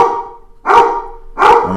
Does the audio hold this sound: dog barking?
yes